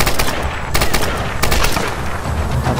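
Rapid enemy gunfire from a Tomb Raider video game, a dense, loud continuous rattle of automatic shots with sharp bursts throughout.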